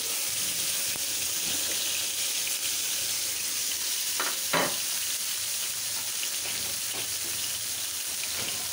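Salted, turmeric-coated bitter gourd fries in oil in a pan for a spicy bhuna, giving a steady, dense sizzle throughout with a couple of brief stirring scrapes near the middle and no talking.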